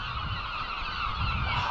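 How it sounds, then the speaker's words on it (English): Seagulls gathered on a rock along the Scottish coast near a lighthouse, giving loud, continuous honking calls that overlap throughout, with no talking. "Listen to the seagulls down on that rock."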